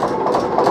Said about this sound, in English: narrowboat engine, and it's about to take off very shortly